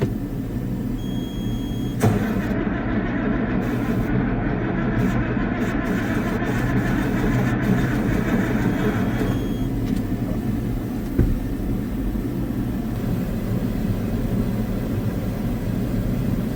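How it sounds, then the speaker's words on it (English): A New Holland 8770 tractor engine catches with a sharp burst, then settles into a steady, deep rumbling idle up close, with a higher whine fading after a while. "I got a new tractor. Fires right up."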